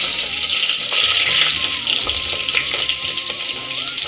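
Green chilies sizzle in hot oil for a vegetable pulao in a pressure cooker, a loud, steady close-up frying hiss with faint stirring clinks throughout.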